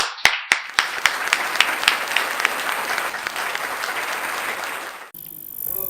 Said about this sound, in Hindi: जोरदार तालियों के साथ भुवनेश सिंघल जी का हार्दिक स्वागत